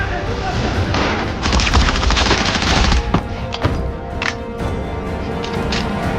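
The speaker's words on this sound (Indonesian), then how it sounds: "Sniper yang jauh berada di luar gedung rumah sakit terus menembaki Anna serta seorang dokter yang masih hidup" Sniper gunfire from far outside a hospital building in an action film, heard as a dense run of sharp shots and impacts with booming low rumble, loud and continuous over a film soundtrack.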